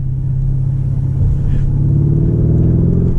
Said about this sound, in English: that beautiful twin turbo V8 makes 640 horsepower, 627 foot-pounds of torque